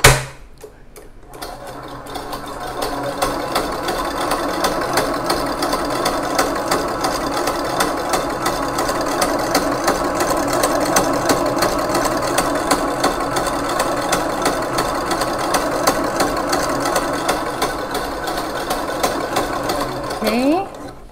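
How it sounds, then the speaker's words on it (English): Electric mixer whisking Oreo chiffon cake batter at speed 8, a steady loud whirring drone that holds evenly for about twenty seconds, with a brief shift in pitch near the end. "Continue whisking at speed 8."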